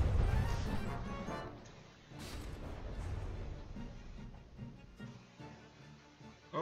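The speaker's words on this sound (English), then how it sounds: "Those shells are going right for that turret. Direct hit." Shells striking a turret in the naval combat game From the Depths: heavy crashing impacts with a rumbling, clattering tail that fades over several seconds, with no talk over it.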